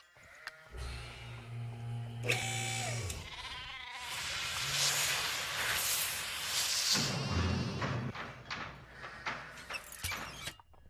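Sheep bleating in the Nancy Drew game The Haunting of Castle Malloy: two long, wavering bleats close up, followed by a stretch of rustling and shuffling with a few sharp knocks.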